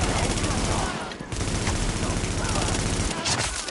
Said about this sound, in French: Il arrose un peu ce flingue quand même.